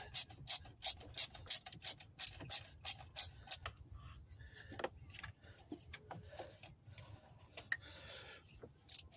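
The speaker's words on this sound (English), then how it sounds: "We're gonna put that 7 on that stud, and we're gonna tighten it." A wrench tightens a nut onto a stud while an alternator is replaced on a 2008-2017 Buick Enclave, producing a series of quick, close ratchet clicks in bursts, followed by quieter metallic rubbing and tool handling.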